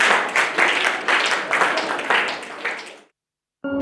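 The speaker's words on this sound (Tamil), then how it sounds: "ஓகே, எல்லாரும் கைத்தட்டுக்கு பார்ப்போம்." Audience clapping at a Christmas program, a lively crowd applauding with rhythmic bursts for about three seconds before it stops abruptly, followed by silence and then a short tonal sound.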